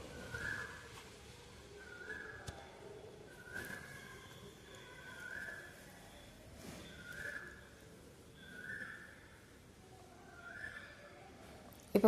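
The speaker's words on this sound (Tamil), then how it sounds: "நெக்ஸ்ட்டு ஒரு மூடி போட்டு 4லேருந்து ஒரு 5 விசில் விட்டுக்கோங்க" A steady series of short hissing whistle bursts repeats about every second and a half from a pressure cooker venting while cooking bottle gourd, fairly faint with no talking.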